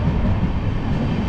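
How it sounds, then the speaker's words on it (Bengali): The Tebhaga Express rushing past, a loud, dense continuous roar of rolling wagons close by, with no break across the short stretch. "এক্সপ্রেস বেরিয়ে যাচ্ছে"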